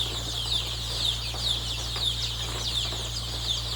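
Chickens in a shed peck at onions they have been given, with soft clucks and scratching over a steady low mechanical hum and a faint repeated high chirp.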